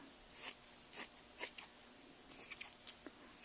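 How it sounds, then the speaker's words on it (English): Scissors snip close by, trimming wire with several short sharp cuts at an irregular pace with brief pauses between them. "Don't use your good scissors for that because you're cutting through wire."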